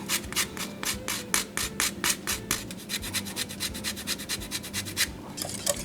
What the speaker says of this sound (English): we need a little bit of orange zest